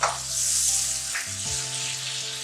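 Kasuri methi and spices roasting in a pan for palak paneer, a dense, loud, continuous sizzle close by with a faint low hum in the background and no speech.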